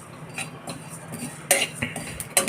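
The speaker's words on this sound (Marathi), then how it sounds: "धने आणि जिरे टाकलेत मी भाजायला." Coriander and cumin seeds dry-roasting in a pan, with a soft background sizzle broken by several sharp metallic clinks and scrapes of a spoon against the pan, close and irregular.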